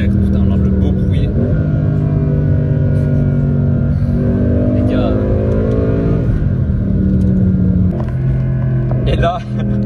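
Mercedes C63 AMG Black Series with a naturally aspirated engine pulls hard under acceleration, a loud, steady roar with rising and shifting engine tones throughout, while someone talks over it.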